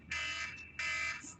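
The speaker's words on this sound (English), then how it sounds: "That's my alarm telling me that the time was up." A speaking-time timer alarm at a high-level online dialogue sounds two loud, sustained electronic beeps, each about half a second long, separated by a brief pause, with no one talking over them.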